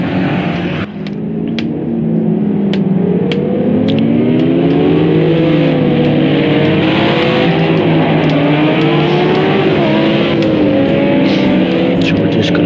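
GT3 race cars, including BMWs, a Cadillac, a Lamborghini and an Aston Martin, racing at Fuji in Project Cars 2: several engines drone and rise and fall in pitch together, loud and sustained, with gear-shift clicks throughout.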